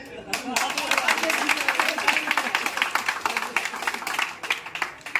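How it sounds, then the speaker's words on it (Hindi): Audience members clap throughout at a New Year's Eve party, steady brisk applause from a nearby crowd that continues for several seconds. "अब बजाइए ताली"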